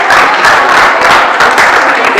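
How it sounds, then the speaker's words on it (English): An audience at a Christian talk claps as people sit down, a loud, dense patter of many hands with faint cheering, steady throughout a couple of seconds. "Let's clap for them as they sit down."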